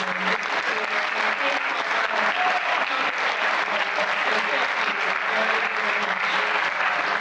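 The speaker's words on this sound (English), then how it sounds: "I really just give a round of applause for Madame." Applause from a school audience at a senior awards ceremony, dense and continuous clapping that holds an even level throughout, moderately loud with a faint murmur of voices underneath.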